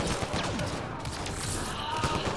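Black Widow sniper rifle fire in Mass Effect Andromeda, rapid loud shots over a dense din of combat with chaotic overlapping weapon noise throughout.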